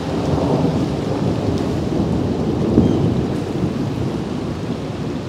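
Heavy, continuous rain of a thunderstorm pours down with a low rumble of thunder rolling underneath, close and loud, with no voices.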